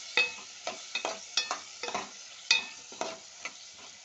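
Ivy gourd pieces being stirred in a frying pan, with a spoon scraping in about a dozen distinct strokes over a faint sizzle. Close and fairly quiet, and no one speaks.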